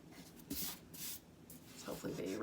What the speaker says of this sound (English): I can even go in now and erase my pencil lines.